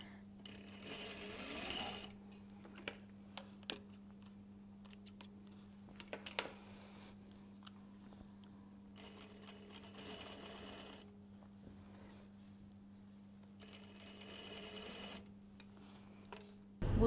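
Sewing machine stitching a seam in a cashmere jacket, running in several bursts with pauses between them over a steady motor hum, close and fairly quiet.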